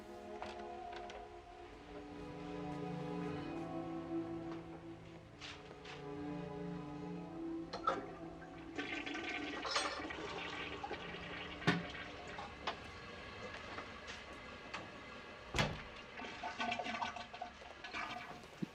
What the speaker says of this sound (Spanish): Escuchamos el agua, los pasos,